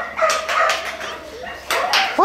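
Puppies whimper and yip in short high bursts while a person talks over them, with a sharper squeal near the end.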